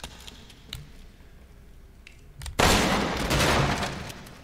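Gunfire in the horror video game Resident Evil Village erupts as a sudden loud burst after a quiet stretch, continuing as dense noisy crackle to the end.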